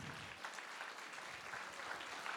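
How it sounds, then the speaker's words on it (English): Families in the audience applaud students at a middle and high school winter choir concert, a steady wash of clapping that holds evenly throughout at a moderate distance. "your family right on cue are giving you applause."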